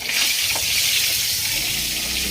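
Eggs fry in a pan with a loud, close hiss and soft crackle that hold steady for a couple of seconds, no voices.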